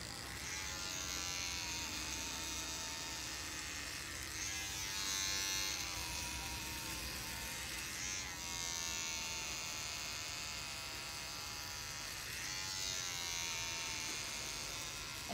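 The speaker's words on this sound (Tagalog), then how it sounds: "Razor lang siya." An electric razor buzzes steadily and close up as a barber trims hair, a continuous whirring drone whose pitch wavers slightly as it moves, with no talking.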